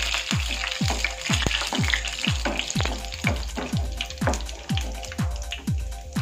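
Yam pieces fry in oil in a pan, a close, steady crackling sizzle punctuated by a regular series of sharp popping thumps about twice per second.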